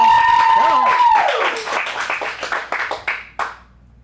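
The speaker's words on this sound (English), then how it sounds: "Big round of applause, everybody." Audience applause at an adult dramatic acting showcase as a performer is introduced for a monologue, scattered claps that start under an announcer's voice and a sliding tone, then thin into sparse individual claps and fade out.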